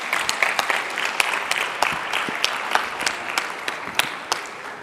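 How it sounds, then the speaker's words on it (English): A smaller audience at a food systems pitch day claps for the ventures, moderately loud applause where individual sharp hand claps stand out distinctly from the steady patter. "And a hand of applause for all our ventures"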